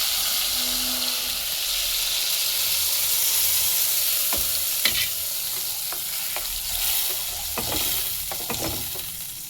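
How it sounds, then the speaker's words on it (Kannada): Tomato puree with asafoetida and fenugreek powder sizzles in a pan over a medium flame on the stove, a steady close frying hiss broken by several sharp stirring scrapes. "ಮೀಡಿಯಂ ಫ್ಲೇಮಲ್ಲಿ ಇಟ್ಟು ಸ್ಟವ್ನ ಈ ಪ್ಯೂರಿನ ಬೇಯಿಸ್ಕೊಳ್ಳಿ."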